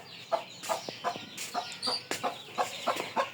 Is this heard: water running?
no